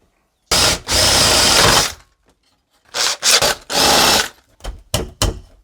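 A power drill with a 16mm spade bit bores through a wooden door for a Euro cylinder lock, loud close whirring in several bursts, from long runs to short stop-start pulses.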